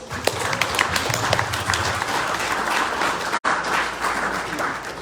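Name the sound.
audience applause for speakers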